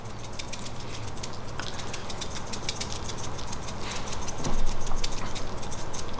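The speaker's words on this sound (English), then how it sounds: "Now I'm going to give them a sprinkling of my salt." Coarse truffle salt sprinkles onto homemade potato chips with a steady, light patter of fine grains, close and fairly quiet, with no talk.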